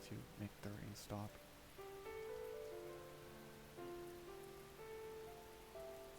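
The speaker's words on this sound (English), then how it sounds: "Couldn't we at least catch a break on this rain?" Rain sound effect from the visual novel The Fruit of Grisaia, a steady soft patter running throughout under gentle background music, with a few brief sharper tones at the start.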